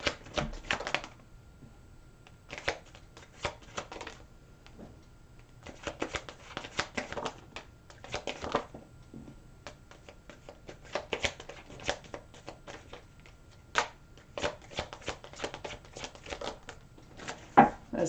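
Tarot cards are shuffled close by in repeated quick riffling bursts with brief pauses between them, and no one speaks.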